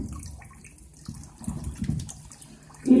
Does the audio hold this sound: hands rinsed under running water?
yes